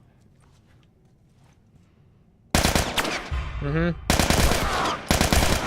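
Gunfire in the video game The Last of Us: rapid bursts of loud shots rattling in quick succession after a quiet stretch, mixed with other game sounds.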